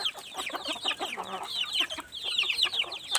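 Hens clucking in a farmyard, a steady run of short, close, fairly loud clucks and chatter with no voices over them.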